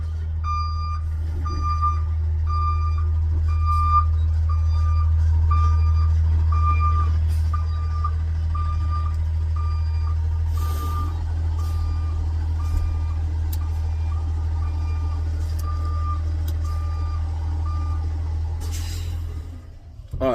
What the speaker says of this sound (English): there's a truck backing up right next to me